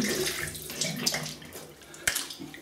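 Tap water splashes into a sink as a shaving brush or razor is rinsed, a brief close-up flowing rush with a sharp tap midway.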